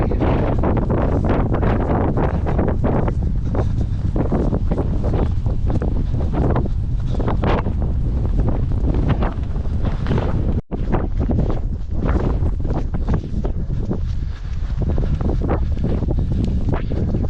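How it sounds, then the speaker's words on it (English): Strong coastal wind roars and buffets the microphone continuously, a loud, gusty rumble with no pause throughout. "So windy"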